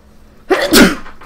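A single loud, close human sneeze: a short inhaled lead-in followed by a sharp burst.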